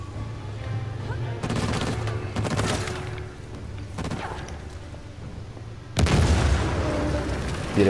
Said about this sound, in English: maybe I shouldn't go towards the exploding vehicle